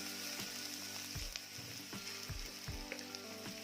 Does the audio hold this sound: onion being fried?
yes